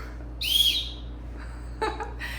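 A short, shrill blast from a safety whistle on a backpack strap rises briefly over a quiet background, then fades, with faint handling noises afterward.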